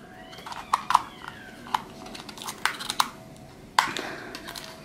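LOL Surprise toy packaging is ripped and torn open in a series of sharp crinkly crackles and tearing snaps, close and loud, scattered irregularly over a quiet background.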